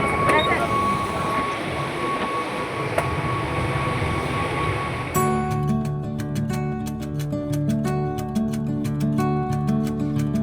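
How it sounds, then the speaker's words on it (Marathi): A commuter train ridden from Vasai station, steady rumble and rolling noise close around, then from midway a busier interior with tonal hum and repeated sharp clicks or announcements over continuous movement. "वसई स्टेशनवरून मला काही मिनिटातच ट्रेन मिळाली"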